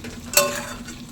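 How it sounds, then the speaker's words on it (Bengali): Fish fries in a pan with a soft, low sizzle, and a single brief stirring clatter comes near the start. "আর মাছটা একটু আবার একটু ভাজা করছি"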